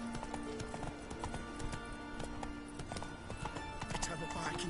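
Quick, even clip-clop of Roach's hooves in The Witcher 3 runs throughout at moderate distance, a brief whinny near the end, with a voice speaking over the gallop.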